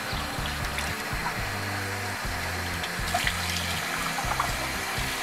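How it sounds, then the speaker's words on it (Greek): A kitchen tap runs steadily while veal large intestine is rinsed under it, water splashing and gurgling through the casing with shifting tones, close and continuous, no talking. "Πλένουμε το παχύ έντερο πάρα πολύ καλά, περνώντας άφθονο νερό μέσα."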